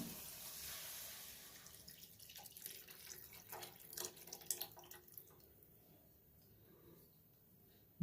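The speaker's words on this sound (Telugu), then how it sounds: "కొంచెం నానబెట్టి పెట్టుకున్న చింతపండు రసం అండి వేస్తున్నాను" Soaked tamarind juice pours into a pot for a village-style pond fish curry, a soft liquid splash and trickle that is loudest early on, then fades to faint drips, with no talking.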